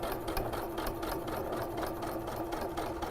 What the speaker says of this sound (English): I'm edge stitching, so I'm going just a scant 1/8 of an inch away from my edge